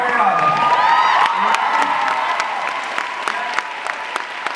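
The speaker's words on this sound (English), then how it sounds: "Stand up and give them a round of applause." Loud convention panel crowd applause with cheering and whoops, dense clapping that fades gradually to scattered claps.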